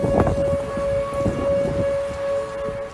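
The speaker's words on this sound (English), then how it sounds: "that's the sound of tornado sirens going off in Dallas" Tornado sirens sound across Dallas in a steady, far-carrying civil-defense wail that holds one sustained tone over a low rumbling outdoor background.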